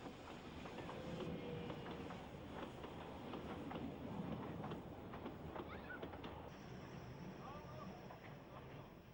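Talyllyn Railway narrow gauge steam locomotive running near the Cynfal request halt close to Tywyn, a continuous rumble of wheels and carriages with rhythmic clatter, heard from moderate distance under a spoken narration.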